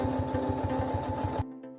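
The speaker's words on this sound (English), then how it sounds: "I'm going to sew them in place onto my skirt" A sewing machine stitches fabric pieces onto a skirt, its needle chattering in a fast, steady rhythm up close before stopping abruptly near the end.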